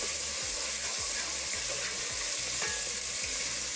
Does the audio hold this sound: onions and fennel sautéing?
yes